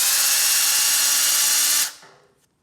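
A drill spins a small piece of sandpaper to lap an engine valve seat: a loud, steady high whine close to the microphone for about two seconds, then it stops abruptly and winds down to silence.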